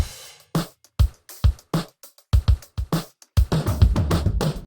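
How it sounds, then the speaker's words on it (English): A dry drum loop without any gated reverb, crisp kick and snare hits spaced in a steady groove with short decays and clean gaps between them, loud and alone. "Right here we have a drum loop, and without any gated, it sounds like this."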